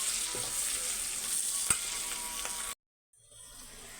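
Kantola (spiny gourd) fry with fresh coriander sizzles in a pan while being stirred, a close steady hiss with a sharp clink from the spoon, then an abrupt stop before the faint sizzle resumes.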